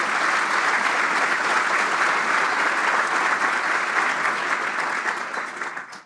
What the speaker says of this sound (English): So everyone could please give us a round of applause for our 2 candidates.